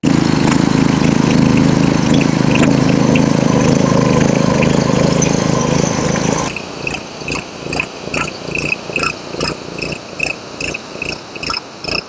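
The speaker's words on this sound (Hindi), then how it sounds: "पहले हम पावर टिलर को चलाकर दिखाते हैं ये काम कैसे करता है" A 7 HP petrol engine on a power tiller runs steadily for about six seconds with a dense, loud drone, then cuts to a faster, choppier rhythmic pulsing that continues to the end.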